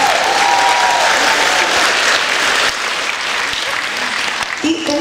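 A concert audience applauds a guitarist with loud, dense clapping that holds steady, eases slightly midway, then gives way to a voice at the end.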